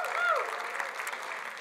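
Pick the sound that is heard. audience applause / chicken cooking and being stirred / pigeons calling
audience applause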